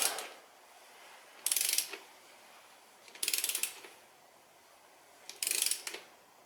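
Socket wrench ratcheting in short bursts while servicing a VW Touareg transfer case: three brisk clicking runs, each about half a second, spaced a couple of seconds apart over a quiet background, close and clear with no talk.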